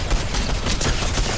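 Continuous dense gunfire from a Fortnite match, loud and steady for a brief moment with no talking over it.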